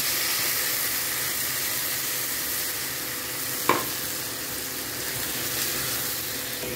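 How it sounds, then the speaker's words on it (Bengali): Blended spices frying with browned onions in a pan for a fish kalia, a steady loud sizzle and hiss throughout with one sharp clink partway, no talk. "এবার আমি ব্লেন্ড করা মশলাগুলো পুরোটা এর মধ্যে দিয়ে দেবো।"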